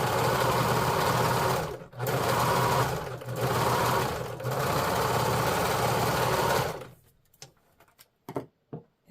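A serger hums loudly and steadily as it stitches fabric for a New Look 6603 garment, running in long bursts with brief pauses, then stopping and leaving a few faint clicks and handling sounds near the end.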